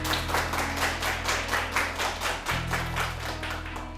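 Sustained applause from a studio audience welcoming a lecturer onto a Korean talk-show stage, a dense, steady wash of clapping with a low hum underneath and no talk.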